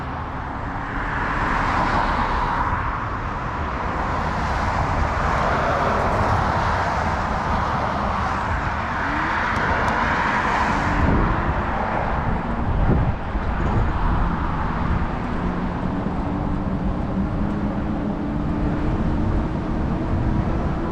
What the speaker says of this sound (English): Got a little traffic in here today.